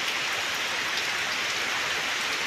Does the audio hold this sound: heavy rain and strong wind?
yes